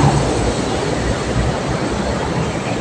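A light rail (LRT) train rumbles past on a Manila street near Bambang, a steady, loud broadband roar that fills the whole clip with no break, heard close by and without talk over it.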